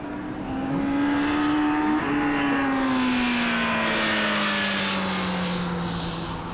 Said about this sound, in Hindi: वहाँ से स्कूटर की आवाज आई।